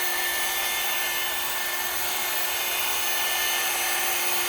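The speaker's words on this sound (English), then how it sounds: "I'm basically letting the buffer, the machine, do the work" A Rupes rotary buffer polishing truck paint, a steady high-pitched motor whine with a constant tone, close and unbroken for the whole stretch.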